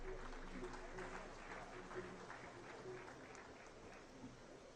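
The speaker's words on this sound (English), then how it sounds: "A better round of applause for His Excellency the President." Audience applause for the President of Ghana at the commissioning of an agri-pasta factory in Tema, a steady wash of clapping from a large crowd that holds level throughout and fades only slightly toward the end.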